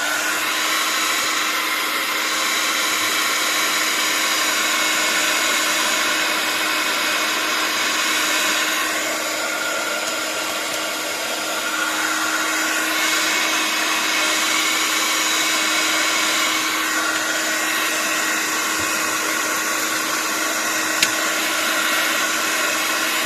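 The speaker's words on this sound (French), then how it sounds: "maintenant, on heat gun." A heat gun blows hot air over foam during a craft project, a steady close whooshing hum with a faint tonal whine that runs without a break, unaccompanied, for the whole stretch.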